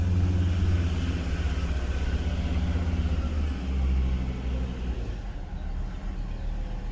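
A 1971 Jaguar XJ6 Series I with the 4.2-litre engine drives along held in first gear, a steady, loud low engine drone and rumble that eases slightly toward the end, with no talk over it.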